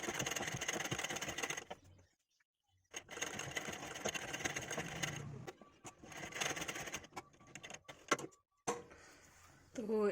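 A sewing machine stitches the folded edge of a dori-design fabric sleeve. It whirs in close bursts separated by short silent pauses, and a voice is heard at moments.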